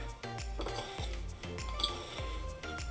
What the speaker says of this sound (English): Just give this a little mix until everything is well combined